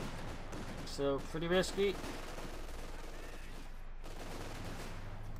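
Mortar fire in Company of Heroes 2 thuds through a steady battle din in a few short muffled bursts, while someone talks over it.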